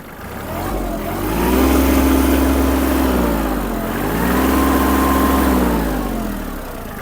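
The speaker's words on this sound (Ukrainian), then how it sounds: "Давайте додамо обертів." A Kubota GL-23 Japanese mini tractor with a D1463 diesel engine revs up twice from idle, its steady low drone rising and falling in two close, loud surges with no talk.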